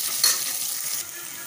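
Onions and green chillies sautéing in a hot pan for a spicy mutton head curry, a steady close sizzle with a brief louder burst of stirring early on and no talking.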